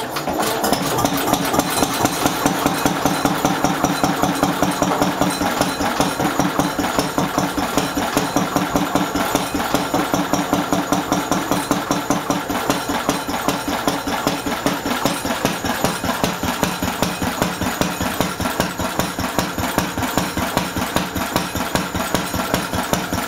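A Lister D stationary engine starts and settles into a steady, rhythmic thumping run, loud and close, with fast regular beats continuing throughout and no voices.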